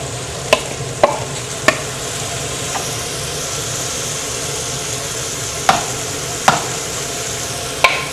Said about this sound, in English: we're ready to throw in our shrimp. So just put our shrimp in.